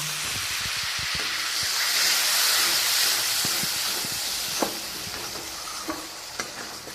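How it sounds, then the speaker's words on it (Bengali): Spice paste sizzling and frying in a pan with added water for a pumpkin curry, a steady steamy hiss with soft stirring scrapes and a few small clinks of a utensil against the pan. "জল দিয়ে মশলাটা আমি একটু কষিয়ে নেব।"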